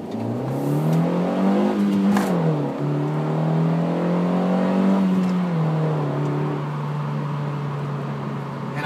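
A manual-transmission car's engine revs up to about 2000 rpm for a launch, holding a steady drone, dipping briefly, then pulling away as the car accelerates, loud and close and with no voices, for about nine seconds.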